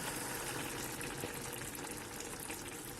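Brown rice paella in vegetable broth simmering over low heat, a soft, steady bubbling and sizzling hiss that stays even and faint throughout, with no talking.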